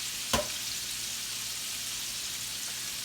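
Chicken backs sear in a hot pan with a steady, close frying sizzle that holds throughout, opening with one brief louder clack of handling or placing.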